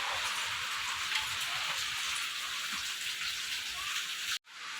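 Heavy rain pours steadily outside a home during a strong storm, a dense, constant hiss that stays loud for several seconds before cutting out abruptly near the end.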